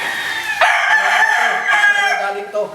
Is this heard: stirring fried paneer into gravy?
no